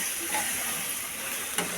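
Steady hot sizzle and hiss of water added to a hot pan of tomato chutney with fenugreek, fairly loud and continuous, with a brief sharper burst near the end.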